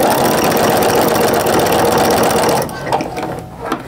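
A sewing machine stitches oven mitt fabric in a fast, steady mechanical whir for over two seconds, then stops abruptly, leaving light handling clicks.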